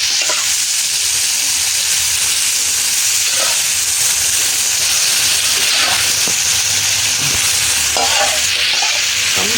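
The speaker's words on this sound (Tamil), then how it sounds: "கொழுப்பும் போட்டாச்சு. இனி நல்ல வடிவாக வதக்குவோம்." Beef fat and intestines sizzle loudly as they are sautéed in a pan, giving a continuous hiss and crackle with occasional stirring scrapes and no talking.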